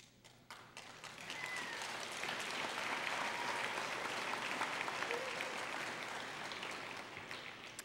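Audience applause at a college commencement ceremony, a dense wash of clapping that swells after the first second and holds steady and loud, fading slightly toward the end.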